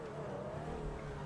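A Range Rover engine revs in GTA 5, a steady, moderately loud motor drone with a slightly rising pitch, heard alone without talk.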